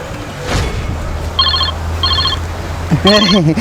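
A phone rings in short electronic bursts, three rings in quick succession, the last more warbling, with a voice speaking briefly at the start.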